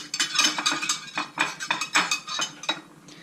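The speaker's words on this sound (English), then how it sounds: "So I've got this one to help me mix it better. A whisk." A metal whisk clinks and scrapes rhythmically against a bowl while mixing seasoning for raw carrot crisps, a series of quick bright taps close up, alone without talk.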